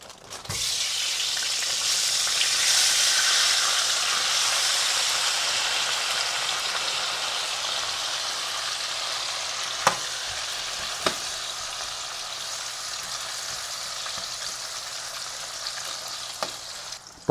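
Bacon bits and frozen potatoes fry in hot oil on a high heating element, giving a dense, steady sizzle close by, with a few sharp pops and crackles and no talking.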